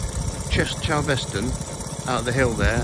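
A 1973 Honda PC50 moped's small engine runs steadily beneath someone talking, its buzzing drone continuous under his voice throughout.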